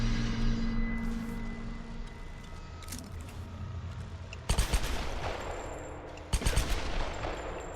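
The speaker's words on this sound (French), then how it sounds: "il tire plein de balles maintenant, le pistolet" Rapid bursts of pistol fire in the Tomb Raider video game, two loud broadband volleys landing in the second half over a steady low game-music and ambience bed.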